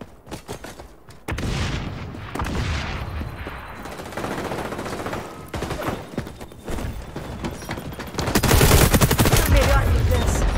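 In a video game shootout, loud bursts of automatic gunfire and heavy booms go off close by, with a sharp explosion and sustained rapid firing toward the end, and brief talk mixed in.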